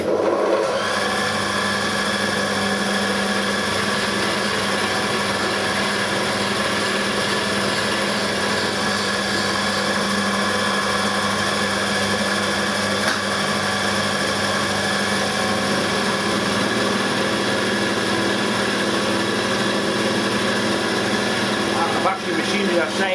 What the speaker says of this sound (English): I found a 60-degree cutter. It should do a dovetail forward.